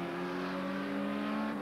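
A race car at Spa in 1986 holds a steady, high-pitched engine drone as it nears a tight right-hander in a low gear, loud and close throughout with no talk.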